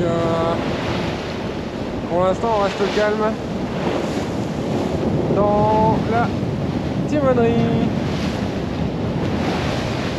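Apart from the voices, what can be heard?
waves and wind at sea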